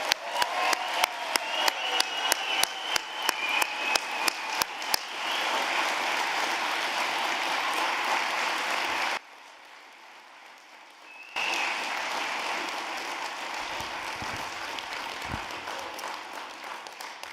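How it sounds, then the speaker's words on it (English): A graduating class at an Anoka-Ramsey Community College commencement ceremony in Cambridge draws sustained applause from a large crowd, with a few sharp claps up front before it swells into steady clapping, then a brief near-silent gap and a return of applause. "Let's give them a round of applause."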